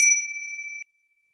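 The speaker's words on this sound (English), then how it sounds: "I'll ring the bell." A mindfulness bell struck once, giving a clear high pure ring that sustains and fades over under a second, alone in silence.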